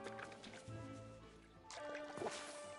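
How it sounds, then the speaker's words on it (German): Watering can pouring water onto crops in the video game Disney Dreamlight Valley, soft splashing and dripping game effects, quiet and brief, layered over gentle background music tones. "So, Gießkanne raus."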